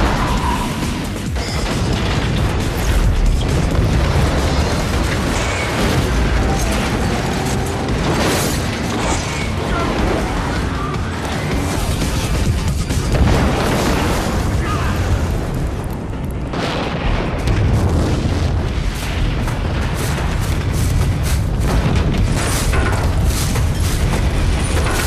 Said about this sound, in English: Did you see that last explosion?